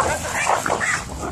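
Dogs fighting, a female Mexican game-bred pit dog among them, with whimpering and yipping whines over a continuous scuffling growl, close and loud throughout.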